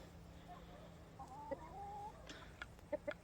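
A rooster with his hens and chicks is heard on a homestead near sundown, giving soft low clucks and a few short, sharper calls over a quiet, steady outdoor hum.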